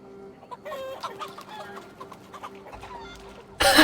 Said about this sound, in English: We're chasing chickens.